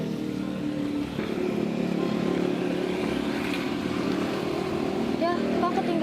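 A motorcycle engine hums steadily nearby, an even, continuous drone running beneath people talking back and forth.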